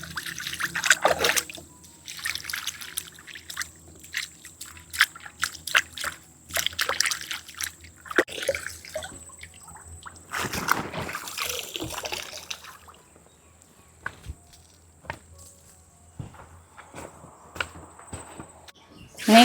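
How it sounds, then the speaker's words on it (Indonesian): Water trickling and splashing as freshly picked garden plants are washed and rinsed at home: uneven bursts of running and dribbling water close by, fading to quieter drips and light handling in the second half. "Lanjut kita cuci ya tanaman ini. Cuci, bilas lagi."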